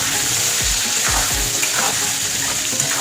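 Chicken pieces with salt and turmeric fry loudly in a pan, a dense steady sizzle broken by a few low thumps of stirring, close and alone without talk.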